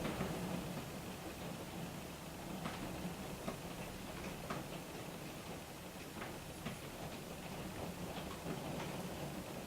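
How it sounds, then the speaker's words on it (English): Steady rain hisses continuously, a dense, faint wash of noise with scattered small ticks and drips throughout, no voices. "listen to that rain"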